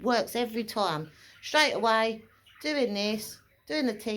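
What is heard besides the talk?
No everyday noise stands out behind the speech.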